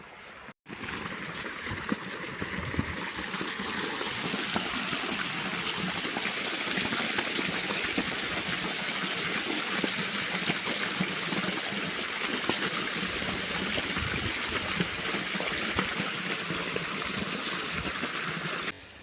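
Continuous rushing irrigation water flowing steadily in a channel to a sugarcane field, a dense even wash of sound with no voices.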